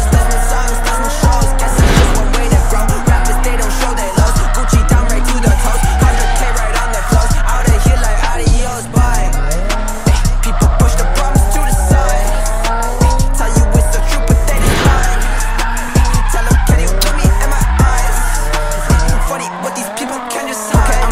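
A Nissan 350Z driven by a professional drift driver slides continuously, its tires squealing and skidding over a loud, roaring engine for a sustained stretch at close range.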